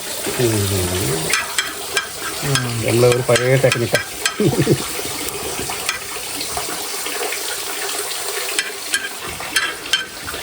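Fennel seeds fry and sizzle in a hot pan while being stirred for a catfish curry, a close, steady crackle under a voice talking through the cooking.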